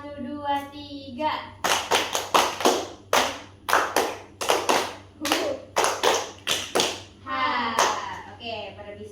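Children in a classroom clap hands in a counting game, giving bursts of sharp, loud claps in quick groups with short pauses between them. A teacher's voice leads the game at the start and end.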